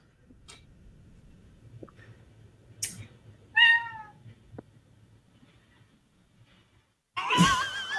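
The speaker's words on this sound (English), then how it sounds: "He just meowed." A cat meows a few times indoors, short close calls separated by quiet pauses, with a louder cry near the end and faint room noise in between.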